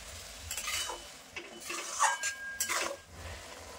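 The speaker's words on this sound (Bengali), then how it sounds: "এবার নাড়তে থাকবো, চিনিটা গলে যাবে।" Carrot halwa stirred in a pan as sugar melts, a spoon scraping and clinking against metal in scattered quick strokes over a faint sizzle, fairly quiet and close.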